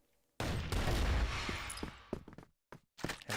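A burst of rapid gunfire in a CrossFire match rattles loudly for over a second, then breaks into scattered single shots, thuds and brief clanks before trailing off.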